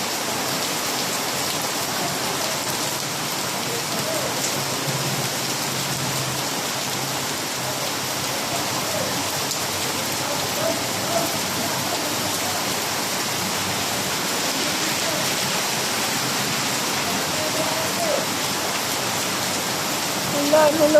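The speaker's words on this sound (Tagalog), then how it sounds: "Ulan. Huminto ka na." Steady rain pours down for the whole stretch, a dense, even hiss with no pauses and no voices on top.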